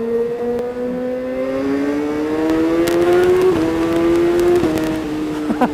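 A 2019 Kawasaki ZX-636R motorcycle revs hard through the gears, its rising engine whine broken by sharp quickshifter upshifts, loud and close with a steady wind roar.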